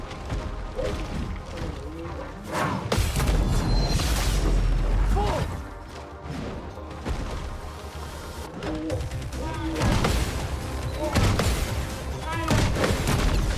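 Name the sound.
cannon shots in video game Expedition 33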